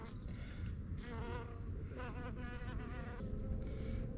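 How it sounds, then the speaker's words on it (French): A wild, non-honeybee bee drinking moisture from a rim outdoors in spring buzzes steadily up close, its wingbeat hum rising and falling over about four seconds with no talking. "Alors c'est pas l'abeille domestique, c'est une sauvage."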